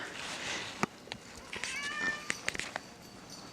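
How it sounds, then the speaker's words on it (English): A house cat meows a few times in the background of a quiet indoor room, the short rising calls clustered midway and sitting faintly over steady low room noise. "There's my cat in the background."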